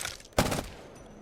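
A single sharp burst of submachine gun fire in the video game Apex Legends, a quick close volley that cuts off and leaves a short fading tail.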